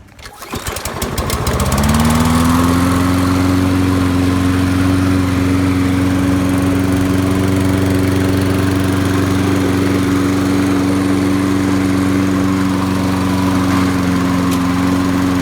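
A Toro self-propelled lawn mower with a Kohler engine starts with a rough cranking burst, then settles into a loud, steady, even drone that runs close and uninterrupted with no talking.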